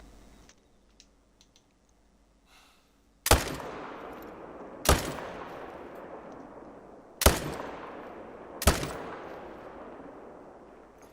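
Four loud gunshots from a hunting video game, each a sharp crack with a long decaying tail, spaced irregularly after a few seconds of near silence.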